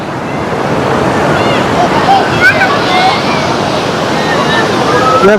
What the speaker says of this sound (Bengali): এখানে ঢেউটা বর্তমানে কিন্তু অনেক বেশি